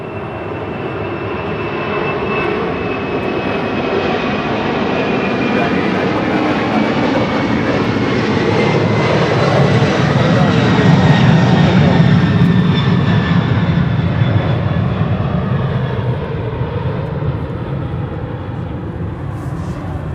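An Atlas Air Boeing 747 climbs away from a runway at Los Angeles International Airport, its broad engine roar steady and loud throughout, swelling slightly in the middle, with a faint whining tone drifting downward above the rumble.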